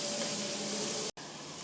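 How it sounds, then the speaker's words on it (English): Chopped onions with cumin seeds roasting in a hot pan for bhaji, a steady broadband sizzle and hiss, close and even, briefly cutting out near the end. "Go on roasting this till the onions are translucent"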